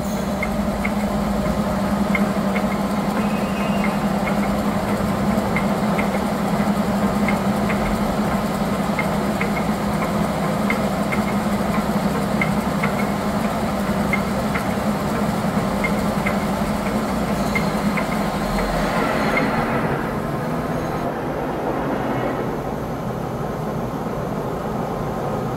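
A Tos SU-125 heavy duty engine lathe runs slowly at 28 RPM, giving a steady mechanical drone with faint rhythmic ticking, loud and close, which eases off near the end.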